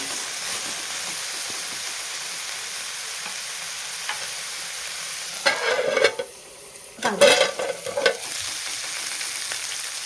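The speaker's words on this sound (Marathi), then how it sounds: "परतून घेऊया असं तेलामध्ये छान परतलं" Masala-stuffed eggplant sautéing in hot oil, a steady close sizzle with two louder bursts of spluttering and stirring midway before settling back to an even fry.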